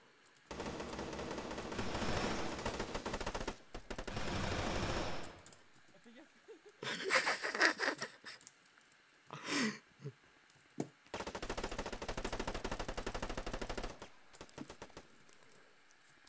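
Gunfire rattles during a city capture event in the military game Arma, long bursts of rapid automatic fire alternating with short pauses and scattered single shots, fairly distant and subdued.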